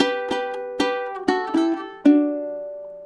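Ukulele strums move through a brief chord sequence, six sharp strokes with small gaps, the last chord sustaining and fading. Nearby and clear, no talking.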